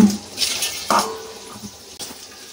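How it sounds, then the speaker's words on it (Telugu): Cooking water from boiled dal poured off a pot with the lid held on, a close splashing pour with metallic lid and pot clinks. "ఈ విధంగా మూత పెట్టి నీళ్లు వంపేసుకోవాలి"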